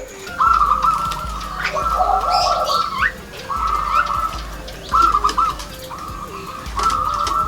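Zebra doves cooing in repeated bursts of soft, trilling coos, a few close together, with steady low background noise underneath.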